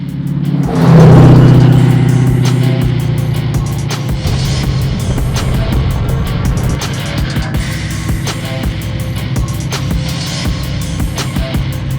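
Chevy K5 Jimmy truck with coilover suspension driving along, a loud engine surge at the start settling into a steady, continuous road and engine drone throughout.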